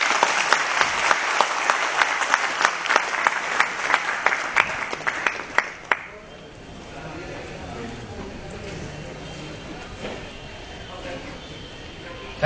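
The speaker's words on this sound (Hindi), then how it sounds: "आप लोग जोरदार तालियों से स्वागत करें" Conference audience in a hotel hall applauding to welcome a speaker, a loud run of clapping for about six seconds that then cuts to a quieter room murmur.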